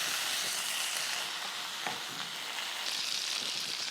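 Steak sizzles in a pan with butter and garlic, giving a close, steady, dense crackling hiss with no talk throughout.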